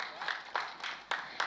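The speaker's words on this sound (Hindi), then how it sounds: "एक बार जोरदार तालियां हो जाए" Audience clapping at a Bollywood song launch event, a few brief bursts of applause swelling and fading in short waves at moderate distance, with no clear speech over it.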